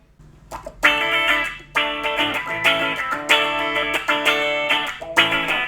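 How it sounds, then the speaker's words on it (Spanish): Electric guitar through a small Fender Champion 20 amp set to delay with reverb, rhythmic strummed chords repeating in even bursts with echoing tails, loud and close, no talking. "Ahí tenemos un delay con una reverb"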